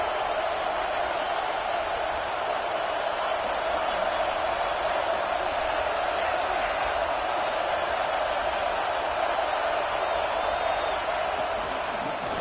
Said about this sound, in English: the crowd really making some noise now, trying to help out this defense